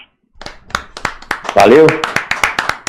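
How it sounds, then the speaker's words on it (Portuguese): Round of applause for a fan who has just recited a poem live, a burst of sharp, fairly close claps in a loose rhythm, mixed with a brief spoken word and cheering voices. "Salve de palmas."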